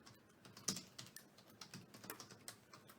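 Quiet, rapid tapping of keys on a computer keyboard, with irregular clicks and one slightly louder stroke, heard alone with no talking.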